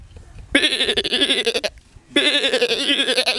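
A human voice mimics a goat bleating with two drawn-out, quavering calls separated by a brief pause. Both are loud, close and tremulous, with nothing else behind them.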